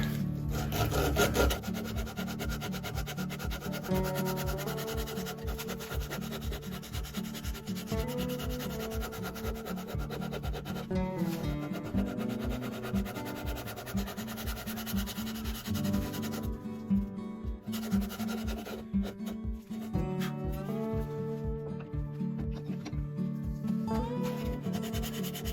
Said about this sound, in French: maintenant, ponçage. Là, je prends une bande de ponçage de 80.